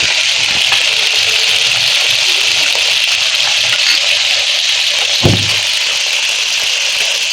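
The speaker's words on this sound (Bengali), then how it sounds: "আর এদিকে মাছ ভাজি হচ্ছে" Tilapia fish fries in a pan at home, giving a loud, steady hiss of hot oil with a faint scrape or knock partway through, and no voices.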